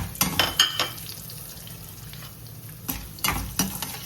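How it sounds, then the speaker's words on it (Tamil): Spices such as asafoetida and dried red chillies fry in hot oil in a pan, a soft steady sizzle broken by a few clattering stirs and scrapes of a spoon. "எல்லாமே பொரியட்டும்."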